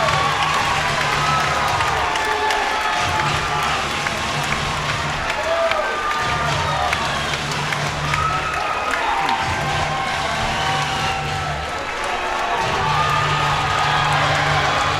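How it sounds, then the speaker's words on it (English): A live MMA event crowd roars with sustained cheering and applause after a fight, a dense, loud wall of clapping and whoops that holds steady for the whole stretch, with no clear speech on top. "The crowd is on their feet."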